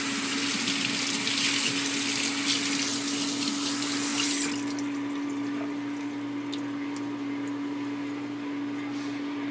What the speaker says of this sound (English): you're going to take it over to the sink, gonna wash it off.